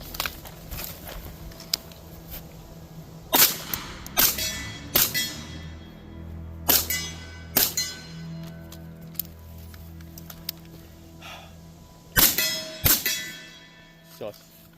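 Sharp gunshots from a 300 Blackout rifle at an outdoor shooting range, several cracks spaced irregularly over the stretch, some in quick pairs, with people talking between shots.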